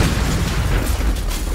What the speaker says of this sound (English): this explosion to the face